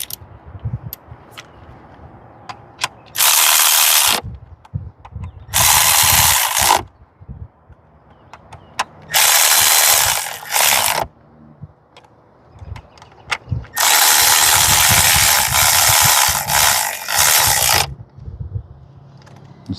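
A ratchet runs spark plugs down and torques them on a Hyundai Sonata engine during a tune-up, with four loud bursts of rapid clicking separated by short quiet gaps and light handling noises.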